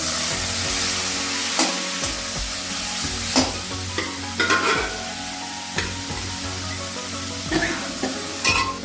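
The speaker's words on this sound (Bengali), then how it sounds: "হলুদটা একটু তেলের উপরে নেড়ে সেদ্ধ করা শাকটা দিয়ে দেবো" Boiled telakucha (ivy gourd) greens are stirred into hot oil with turmeric and asafoetida, giving a steady close sizzle broken by repeated scraping strokes of a spatula against the pan.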